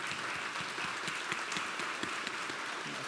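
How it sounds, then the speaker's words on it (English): A crowd applauds elected officials and commissioners at a mental wellness event, a sustained, broad patter of many clapping hands holding steady throughout, with scattered sharper claps poking through. "we'll give you a big round of applause here"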